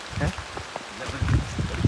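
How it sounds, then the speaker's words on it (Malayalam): Rain patters steadily in the background while a person talks nearby. "മഴ പെയ്യുന്നുണ്ട്"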